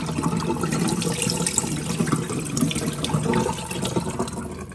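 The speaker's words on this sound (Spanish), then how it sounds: "lo primero que vamos a hacer es pasar a lavar el arroz" Rice being washed in a pot with water, a continuous close splashing and swishing of water that runs steadily the whole time with no speech.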